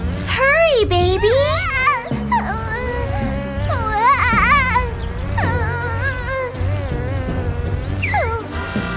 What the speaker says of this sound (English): Uh-oh, the bees are angry.